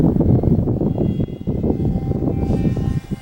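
A HobbyKing Skipper light foam RC plane flies in windy conditions, its small electric propeller buzzing loudly and close throughout, swelling and dipping as it manoeuvres.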